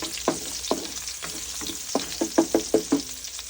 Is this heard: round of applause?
no